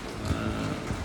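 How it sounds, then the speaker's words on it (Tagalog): A steady, dense hiss of heavy rain falling in Dubai, constant and even throughout the short stretch. "entrada pa lang ng ulan to"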